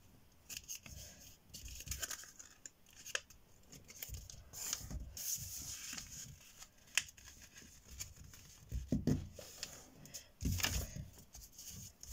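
Paper being folded into origami storage boxes, close and soft, with repeated rubbing, creasing and rustling strokes as the sheets are pressed flat, no talk.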